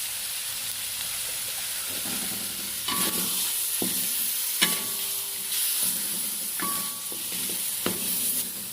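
Ground spice paste for a curry, with star anise, cardamom and cloves, sizzles steadily in a pan while a utensil clinks and scrapes against it every second or so.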